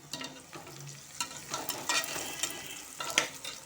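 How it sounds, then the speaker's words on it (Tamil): Two small green chillies and a large onion fry together in a pan for mushroom biryani, giving a soft sizzle broken by light scraping stirs and clinks, close and quiet, with no talking. "வெங்காயம் நல்லா வதங்கிருச்சு. நான் சின்ன பச்சை மிளகா 2 சேர்த்துக்கிறேன்."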